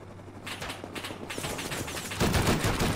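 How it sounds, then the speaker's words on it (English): Automated turret gunfire in Rust, a rapid stream of crackling shots from some distance that grows louder and denser toward the end, with no talk. "Oh God, there is turrets."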